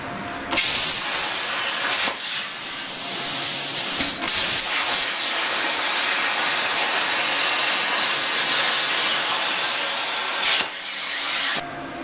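A Langmuir Systems Crossfire Pro CNC plasma cutter slices metal with a loud, harsh, steady hiss, starting abruptly, breaking briefly twice, then stopping and restarting near the end; no voices.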